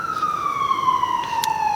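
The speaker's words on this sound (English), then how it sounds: "excuse the siren" A city siren wails, slowly falling in pitch, sounding from a moderate distance over low background rumble, with no talking.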